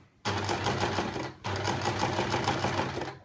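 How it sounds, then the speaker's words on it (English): A sewing machine stitches fabric in two fast, steady bursts of rapid mechanical whirring, close and clear, separated by a brief pause. "and you just keep sewing."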